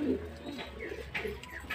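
Pigeons coo softly and repeatedly while eating rice from a basin, with a voice speaking over the steady murmur and a few sharper chirps.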